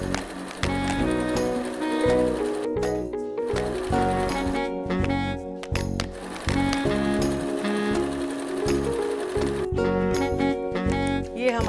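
A sewing machine runs stitching a quarter-inch quilt seam for a patchwork yoga mat, giving a fast, steady mechanical chatter in close bursts with brief pauses and restarts between runs.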